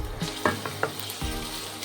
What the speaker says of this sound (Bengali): আমি এখানে কিছু ফাইন করে কাটা আদা কুচি দিয়ে দিচ্ছি। আদা কুচিগুলো একটু ভাজবো